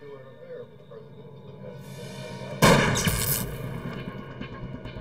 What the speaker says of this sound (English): She doesn't hear the shot.